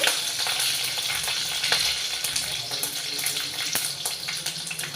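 Green chillies and dried red chillies fry in hot oil in a pan, giving a steady, close, crackling sizzle with small pops and no talking.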